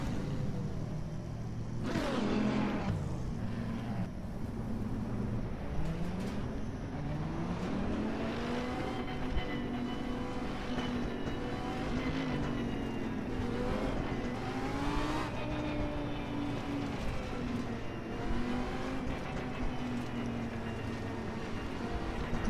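Race cars in Assetto Corsa Competizione on PS4 drone steadily in a double-file pack, engine pitch rising and falling through gear changes, with a brief loud surge near the start.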